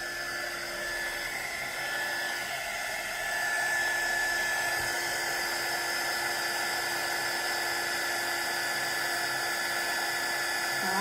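A heat tool blows steadily to set embossing powder on papercraft, a continuous loud whirring hiss of fan and hot air that holds for the whole stretch with no talking.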